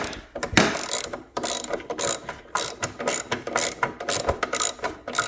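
Socket ratchet tightening a bolt on a Craftsman snow thrower, a rapid series of close, crisp clicking bursts in repeated strokes, with no talk.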